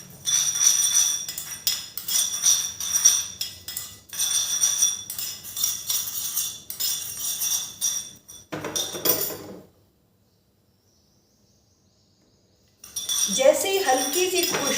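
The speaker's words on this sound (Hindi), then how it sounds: "देखिए ये हमारी धीमी आंच में मैं तड़का पैन में इनको भून रही हूँ।" A metal spoon clinks and scrapes in a tadka pan as stuffed parwal and bhindi are stirred and roasted over a low gas flame. The sound comes in repeated close bursts, stops into silence, then starts again.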